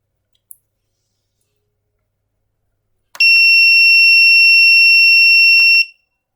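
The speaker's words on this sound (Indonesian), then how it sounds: "Berarti buzzer telah berbunyi" An electronic buzzer switched on from a computer interface gives a loud, steady, high-pitched tone for about three seconds. A faint click comes before it, and the tone cuts off abruptly.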